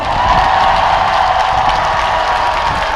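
A large outdoor crowd at the Gampo port 100th anniversary celebration gives a singer a big round of applause, a dense, loud, continuous wash of clapping with no talk over it.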